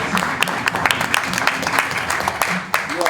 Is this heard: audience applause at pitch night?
yes